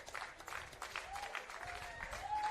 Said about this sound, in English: Sanakis gets a huge round of applause for scoring what was a beautiful goal